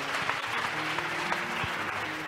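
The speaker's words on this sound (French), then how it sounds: "Donne à Dieu une acclamation." A church congregation applauds steadily, dense clapping throughout at moderate volume, with a faint low hum beneath it.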